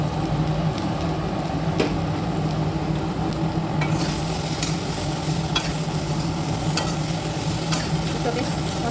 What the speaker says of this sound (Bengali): মশলাগুলো একটু ভাজা ভাজা মতো হয়ে আসছে